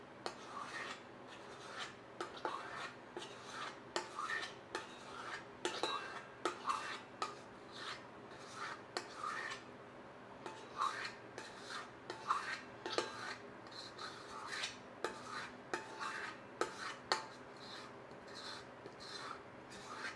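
Spatula scraping strawberry cake batter made with real strawberries out of a bowl into a cake pan, repeated soft rasping strokes and light clinks at a steady pace, close and fairly quiet.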